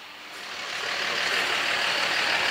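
A truck or heavy vehicle pulls a Chevy Vega parts car into place at a junkyard restoration, its broadband engine and road noise growing steadily louder and closer, with possible reversing beeps blended in.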